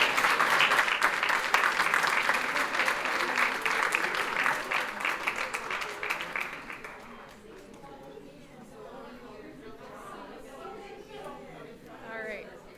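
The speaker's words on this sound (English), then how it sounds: "Let's give them all a round of applause." An audience at a school board meeting applauds loudly for about seven seconds in dense, steady clapping, which then fades into a low murmur of chatter and shuffling as people talk in the background.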